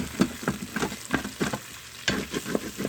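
Garlic sauteing in an Instant Pot, with a utensil stirring and scraping in quick irregular strokes over a light sizzle, close and alone without any talk.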